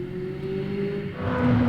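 A McLaren 600LT's engine revs and builds on a racing circuit, a steady close whir that climbs in pitch and grows louder toward the end, with no voices.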